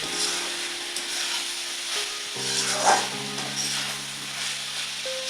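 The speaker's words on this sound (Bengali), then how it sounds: "এটাকে একটু নাড়াচাড়া করে দিচ্ছি" Sliced mushrooms sizzle and fry in hot oil in a pan while being stirred, a steady close hiss with occasional scraping of the utensil.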